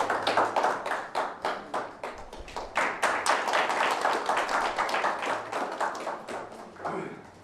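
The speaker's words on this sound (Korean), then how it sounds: "큰 박수로 환영해 주시기 바랍니다" An indoor forum audience gives warm welcoming applause for a speaker, with many hands clapping in a fairly rhythmic, steady burst. The clapping fades out at the very end.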